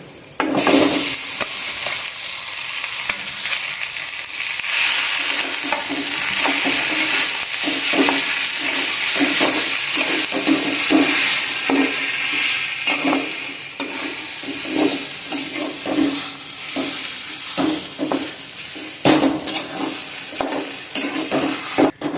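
Potatoes fry in a pan for aloo paratha filling, with a steady loud sizzle and regular scraping stirs running throughout, no voices.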